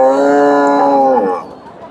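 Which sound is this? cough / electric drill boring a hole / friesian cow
friesian cow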